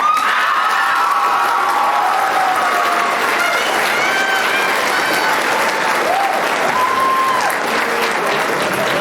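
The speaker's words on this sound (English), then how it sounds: "if you could just clap a little louder for these people" A school crowd at a fall sports awards night claps loudly and continuously, with whoops and high cheers rising above the dense applause throughout.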